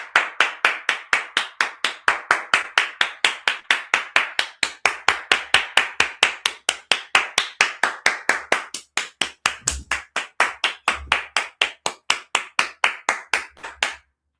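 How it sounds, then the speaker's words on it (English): One person claps for himself in steady, sharp, evenly spaced hand claps, loud and close, continuing alone for the whole stretch with a brief low thump partway through. "I'm going to stand up and give myself"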